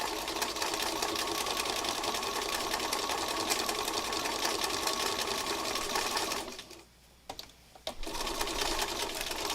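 A sewing machine runs in a steady, fast whir as it stitches fabric scraps held down with glue stick, pausing briefly near the end before resuming, close and alone with no talk.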